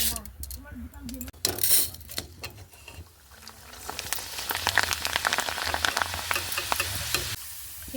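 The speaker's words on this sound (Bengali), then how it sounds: "এই দেখো বন্ধুরা কত সুন্দর চালগুলো ভাজা হয়েছে তেলে।" Rice frying in plenty of hot oil in a wok fitted with a strainer, with curry leaves in the pan: a loud, steady sizzle and crackle that swells as grains go in, with occasional metallic stirring clinks.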